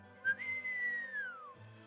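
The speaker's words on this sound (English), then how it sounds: "He sprang to his sleigh, to his team gave a whistle" A single sustained whistle from Santa calling to his reindeer team, rising at the start, holding steady, then gliding downward at the end, heard alone and fairly clear.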